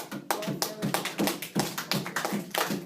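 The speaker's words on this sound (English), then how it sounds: "Round of applause." A few people clap at the close of a debate, a small, uneven round of close, sharp handclaps in irregular bursts with brief gaps between them.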